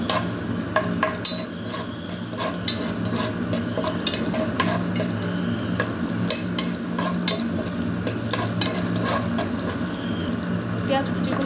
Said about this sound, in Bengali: তেলটা গরম হয়ে আসলে আমি এখানে পেঁয়াজ কুচি দিয়ে দিচ্ছি